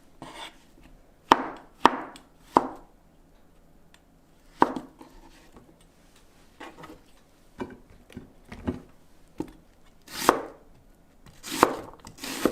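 A knife chopping vegetables for zucchini stew on a cutting board, with sharp, irregular thuds arriving singly and in short bursts, close and clear, separated by quiet pauses and no talking.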